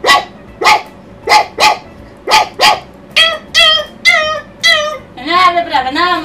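A person imitates a small puppy, making a run of close, loud yips and whimpers. They start as separate short barks, then quicken into whining, rising-and-falling cries near the end.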